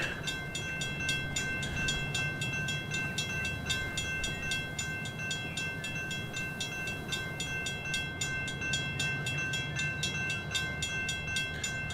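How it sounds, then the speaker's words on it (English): Model train rolling steadily along its track, a continuous rhythmic clatter with a faint high whine, moderately quiet and close, with no talking over it. "Go, little train, go."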